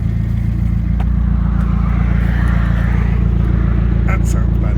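A car with its rear exhaust box removed gives a steady, deep, throaty engine rumble close by as it idles and pulls away, running continuously throughout.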